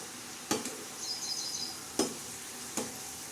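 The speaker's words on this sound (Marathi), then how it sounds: "छान अशी आपली भाजी आता आपण हलवून घेणार आहोत" Fenugreek and potato sabzi stirred in a pan: soft sizzling under a few sharp scrapes and knocks of a spatula against the pan, three distinct strokes spaced apart, fairly quiet.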